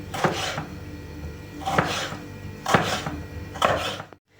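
Four crisp knife slices through tomatoes against a cutting board, spaced about a second apart, close and fairly loud, with no talking.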